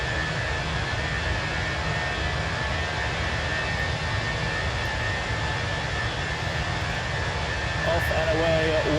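A jet airliner engine spools up for takeoff from Fort Lauderdale in a flight simulator game, a steady broadband roar that holds loud throughout, with a voice talking briefly near the end.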